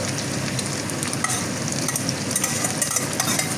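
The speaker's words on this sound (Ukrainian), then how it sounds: "Цибулю також піджарюємо до золотистої скориночки." Onion fries in rendered pork fat from salo in a hot pan, giving a dense, continuous crackling sizzle with small popping spatters close up and no voices.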